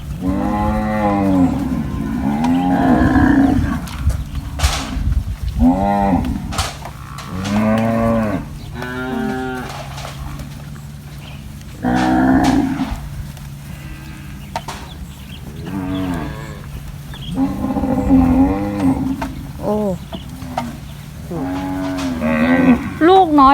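A herd of more than a hundred free-range cattle let out of their pen to graze, moo repeatedly and loudly in drawn-out calls, several overlapping, with brief quieter gaps between bursts.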